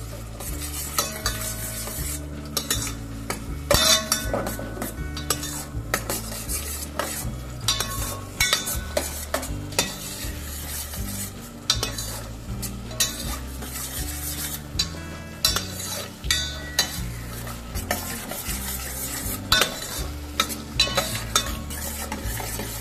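Ginger, garlic and chili paste sizzles in a pan while a spoon stirs it repeatedly, rhythmic metallic scrapes and clinks over a steady fry hiss, close and busy throughout.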